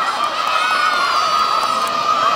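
A crowd of kids cheer and shout together, a continuous dense roar of young voices at steady level with no clear pauses.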